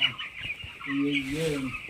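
Chickens cluck close by in short, throaty bursts, with a drawn-out cackle toward the end over a high background hiss.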